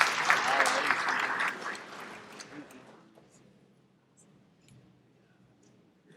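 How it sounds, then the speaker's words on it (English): An audience at the Zimbabwe ICT Innovation Fund launch gives a round of applause that is loud at first, then fades away over a few seconds into near silence with faint room noise. "Can we give a round of applause for Engineer?"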